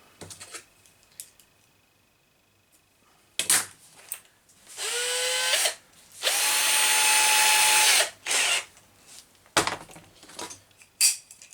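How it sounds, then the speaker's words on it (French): Power drill with a 3 mm bit boring into a plastic part on a Traxxas Sledge RC truck, two whirring bursts with pitch shifts between quieter clicks and handling knocks. "Donc je vais percer à 3 dans le plastoc."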